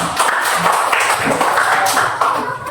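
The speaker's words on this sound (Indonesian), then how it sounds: "Oh, tepuk tangan." A small group in a classroom claps hands for a few seconds, a loose scattering of close, uneven claps with no talk over it.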